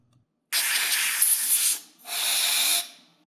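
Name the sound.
canned air spraying contact cleaner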